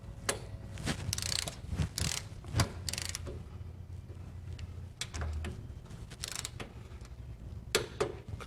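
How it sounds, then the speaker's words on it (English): Torque wrench clicking while tightening the rocker arm nuts on a 1964 VW Beetle engine, with several sharp, close clicks spaced irregularly over low mechanical background noise. "And torque them down."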